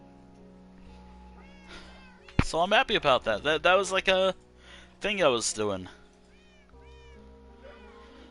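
Cats in the video game Minecraft give short meows, some before and some after a stretch of someone talking over quiet game background sound.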